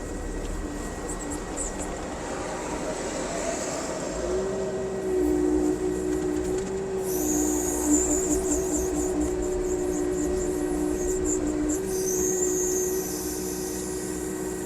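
A Kubota KX027 mini excavator driving forward and turning, a steady diesel engine hum with a rising hydraulic whine and high-pitched travel squeal, close and continuous without speech.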